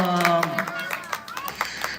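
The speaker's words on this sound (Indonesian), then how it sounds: "tepuk tangan dulu dong" An audience claps at a Maulid Nabi celebration at a nature school in Aceh, a short burst of scattered, close hand claps that fades quickly while voices carry on over it.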